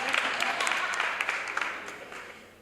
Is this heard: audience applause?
yes